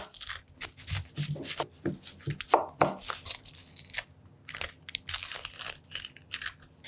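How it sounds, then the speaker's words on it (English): A knife thinly slices red onion on a cutting board: a quick, irregular run of crisp cuts and taps up close, with a brief pause partway through. "Next up, we're gonna thinly slice some red onion."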